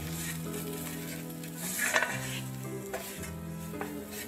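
Chopped onion and spices, including turmeric, are stirred in a pan with a soft sizzle and scraping, over a steady low tonal hum, and a brief clatter sounds near the middle.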